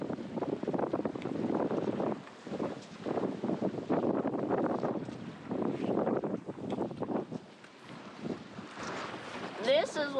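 Strong southeast wind blowing across a sailboat during the Race to Alaska, gusty rushing noise buffeting the microphone in surges with water sounds, a voice briefly heard near the end.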